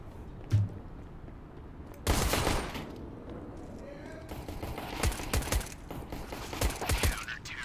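Gunfire in the shooter CS:GO on the Overpass map during a competitive match: a quiet lull, then loud bursts of automatic fire and single sharp shots in rapid clusters, with an excited commentator talking over it.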